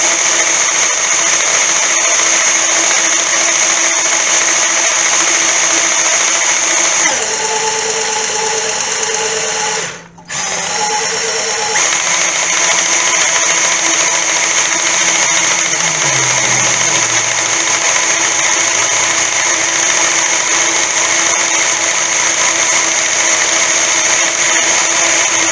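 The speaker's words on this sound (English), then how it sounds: "Now I don't know what the RPM range of this drill is" An electric drill spinning the oil pump of a Stingray's Big Block 454 engine, a loud steady whine that drops briefly in pitch midway, then resumes for a long stretch, close and alone.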